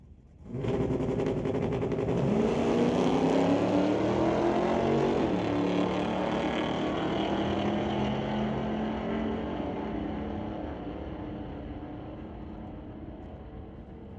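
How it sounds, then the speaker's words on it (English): A 1986 El Camino and a 1985 Regal drag racing side by side at a Street Legal night at Mission Raceway Park: a loud, sustained engine roar that builds quickly, holds, then slowly fades as the cars pull away, with no talk. "The 1986 El Camino out of Pitt Meadows racing the 1985 Regal out of Surrey."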